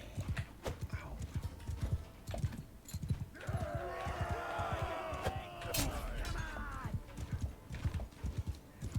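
Horse hooves gallop in the medieval combat video game Mount & Blade Bannerlord, a steady rhythmic clip-clop of strikes that runs throughout, with other game noises and voices over it.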